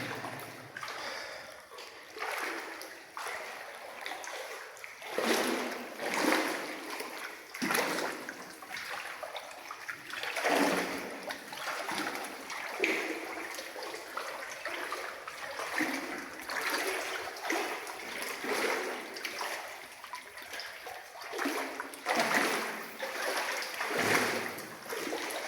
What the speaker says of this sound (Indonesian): kita lanjutkan lagi ke lintasan sungai bawah tanah